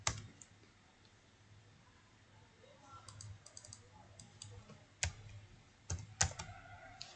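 A computer mouse clicks and a keyboard is tapped during design work in CorelDRAW, sparse quiet clicks scattered with a few sharper double clicks in a hushed room.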